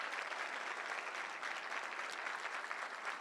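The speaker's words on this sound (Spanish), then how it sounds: "al doctor Manuel Valadez Díaz, quien pido un fuerte aplauso porque hace posible este Congreso." Steady, dense applause from an audience at a law conference on police detentions, sustained evenly throughout without any talk over it.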